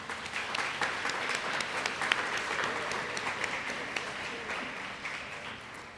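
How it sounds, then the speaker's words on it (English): Steady applause from an audience at a graduation luncheon, many hands clapping together at an even level for the whole stretch, dense and sustained without pause. "Let's give this group a round of applause."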